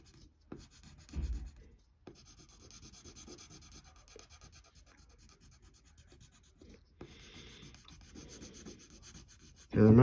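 Soft, steady rubbing of the side of a pencil or crayon shading a dark area on paper, close and continuous with brief pauses, ending in a louder scrape.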